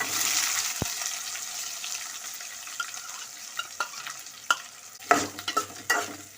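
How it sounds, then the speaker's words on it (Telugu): Green chillies, onions and curry leaves frying in a pan, a continuous sizzle that fades a little as scattered spatula scrapes and clacks come through, close and without talk. "పచ్చిమిర్చి, ఇప్పుడు ఉల్లిపాయలు వేసుకుందాం."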